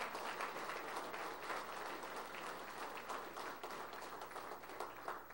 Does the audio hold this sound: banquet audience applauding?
yes